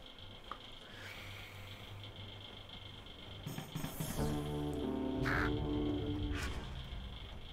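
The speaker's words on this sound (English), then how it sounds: "Oh, I don't like these crows." Crows caw harshly in the fantasy video game For the King, several rough calls rising over a steady ambient game drone, fairly close and loud, with no talking.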